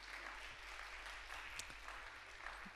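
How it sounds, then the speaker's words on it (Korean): A church congregation claps together during a Korean sermon, steady mid-distance applause filling the room, fairly quiet and even, with a low hum underneath. "우리 박수 한번 치겠습니다"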